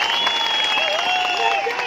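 Crowd at a political rally in Kotkhai claps for Jagat Prakash Nadda in a dense, continuous patter of applause, with a sustained tone ringing over it.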